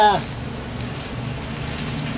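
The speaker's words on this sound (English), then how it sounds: "It's raining." Rain falls steadily at night in Fredericton, a soft, even hiss close by after a short voice at the very start.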